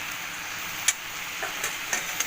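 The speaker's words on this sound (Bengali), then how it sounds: "মিশিয়ে ভালো করে সবজির সাথে, মশলার সাথে শুটকি মাছটাকে মিশিয়ে নেব।" Dried small fish stirred into a spicy vegetable curry in a pan, a low, steady sizzle broken by a few soft scraping clicks from the stirring, no talk.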